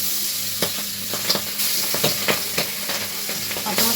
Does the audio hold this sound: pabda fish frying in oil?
yes